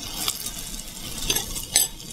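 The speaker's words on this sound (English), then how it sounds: "it's just a sign that it's cooking, that it's frying real good." Sliced plantain and egg fry in a pan with a steady soft sizzle, punctuated by a few light scrapes and clinks of a utensil against the pan, close and without talk.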